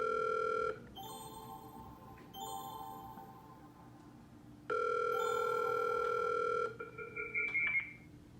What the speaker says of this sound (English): So say that I wanted to call Matt, I could simply click right here and it's going to dial him.